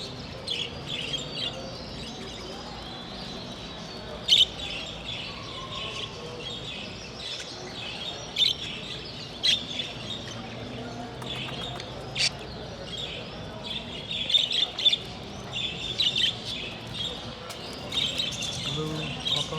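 Budgerigars chirp and tweet at a budgie show, a steady chatter of small high calls with occasional sharper peeps, moderately close, beneath a busy indoor hubbub of people talking.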